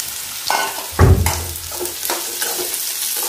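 Pirandai sautéing in hot oil, loud and close, with a steady sizzle and a heavy thump and scrapes as the stems are pressed and stirred in the pan.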